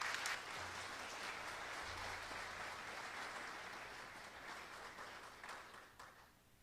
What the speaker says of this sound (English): would you welcome him with a round of applause?